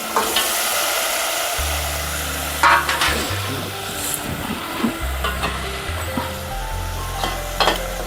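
Boiled mutton tipped into cooked masala for a spicy mutton rassa, a bright steady sizzle with a few clunks and scrapes of stirring against the pan, heard close and without talk.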